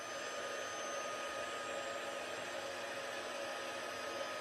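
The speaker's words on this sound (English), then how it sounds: "And the magic of heat embossing is just delightful." A heat gun blows a steady, even whir of hot air while melting embossing powder in a craft demonstration. The hum stays constant and fairly soft throughout, with no speech.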